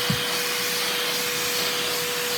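A large LEGO vacuum engine with twelve pistons runs slowly at roughly 85 RPM, giving a steady, close airy whoosh and rubbing hiss with no talk.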